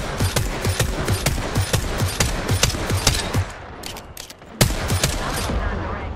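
Rapid bursts of automatic gunfire in Apex Legends, a steady rhythmic stream of shots that pauses briefly near the end, then resumes loud and close.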